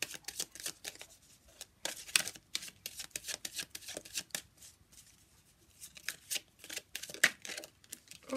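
Tarot cards are shuffled for a reading in close, quiet, crisp bursts of riffling and flicking. The bursts come in uneven clusters with short pauses between them.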